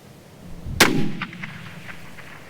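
A single sharp rifle report from a Savage Axis project rifle shooting at 1,450 yards in a strong crosswind, loud and close, followed by a fading rumbling tail and faint later knocks.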